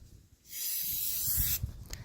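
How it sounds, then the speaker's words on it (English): Spray paint hisses from an aerosol can onto a custom mascot head in one steady burst of about a second, close and loud, then tapers into a few short sputters. "You can spray at one end and come in across."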